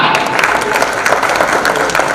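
Audience applause at an award programme in Mumbai, a brief burst of thick, steady clapping from a crowd, loud and continuous throughout with no voices on top.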